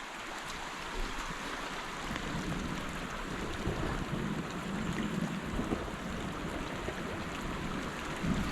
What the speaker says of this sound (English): And water is flowing a lot more than what it was earlier.